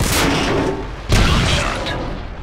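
Two heavy tank cannon blasts from World of Tanks, one at the start and a louder one about a second later, each a sharp booming crack that decays into a rumbling tail.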